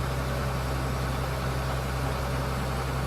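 A John Deere combine harvester idles in a farming video game, holding a steady, unbroken low engine drone throughout.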